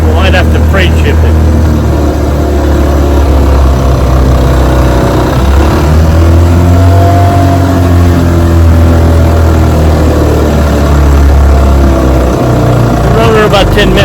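A restored 1956 Gale Buccaneer outboard motor runs steadily nearby with a loud, continuous low drone and slight shifts in pitch, and a voice talks briefly over it.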